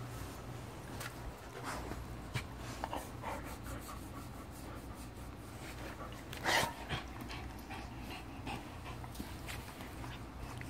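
A dog pants steadily at close range with soft whimpers and a brief rustle of movement, fairly quiet and continuous with no talking.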